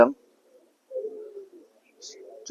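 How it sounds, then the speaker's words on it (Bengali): Pigeons coo softly in a loft at dawn, with a couple of low, drawn-out calls separated by quiet gaps, and brief bits of voice at the start and end. "তো চলে এসেছি আমরা পায়রার লফটে।"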